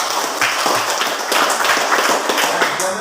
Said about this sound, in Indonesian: Tepuk tangan untuk Religius.